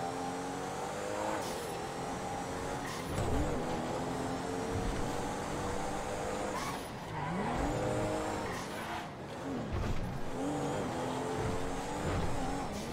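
Car engine revving and changing gear in a video game, with tire squeals and skidding as the vehicle accelerates and slows over a steady stretch of driving, fairly close and moderately loud with no speech.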